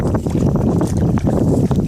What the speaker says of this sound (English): A little bit windy, going straight head in.